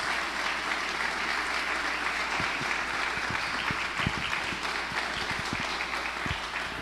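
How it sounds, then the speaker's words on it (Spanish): Congregation applause in a church service, a steady, dense patter of clapping over a low background hum, with a few louder close claps punctuating the second half. "están aplaudiendo los ángeles"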